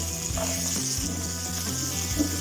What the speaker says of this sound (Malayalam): നന്നായിട്ടൊന്ന് വഴറ്റി കൊടുക്കാം കേട്ടോ. പിന്നെ പച്ചമണം മാറുന്ന വരെ ഇതൊന്ന് വഴറ്റി കൊടുക്കാം.